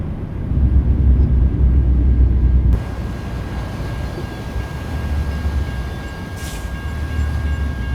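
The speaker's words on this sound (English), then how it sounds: "Got a train up ahead." A train rumbles past in the American Truck Simulator game near The Dalles, Oregon: a loud, steady low roar of rolling wagons that eases slightly partway through and carries on without talk.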